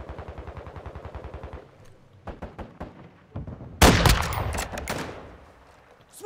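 Gunfire in Call of Duty Modern Warfare II: a burst of loud sharp shots, then a heavy blast near the middle with a long rolling decay, then scattered knocks and thumps. No one talks.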